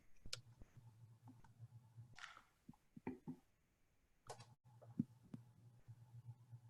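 Several sharp computer mouse clicks while sharing a screen during an online presentation on energy enhancement projects, scattered and fairly faint over a low steady hum.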